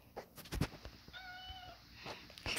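A cat meows several times in a short sequence, close to the recording, with a few clicks and bumps in the room around it.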